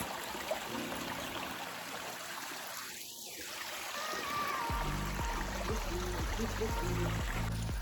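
Quiet trickle of a stream flowing nearby along a streambed trail, joined halfway through by a low rumbling engine drone.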